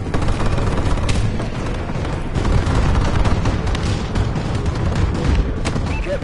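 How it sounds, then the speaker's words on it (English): Dense, continuous barrage of enemy bombing run explosions and gunfire in the video game Call of Duty Advanced Warfare, loud rumbling booms layered with rapid crackling shots, with no break. "Enemy bombing run incoming."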